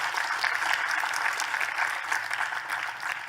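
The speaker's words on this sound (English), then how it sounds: "it's a good time for a round of applause" A conference audience at an AI talk in Tel Aviv claps steadily and continuously, a dense wash of applause filling the room without a break.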